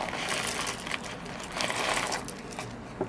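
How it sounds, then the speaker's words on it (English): Coffee beans rattle and patter into a Porlex Mini hand grinder, a close, busy stream of small hard clicks lasting a few seconds with no voices. "And I'm just going to put some beans in here."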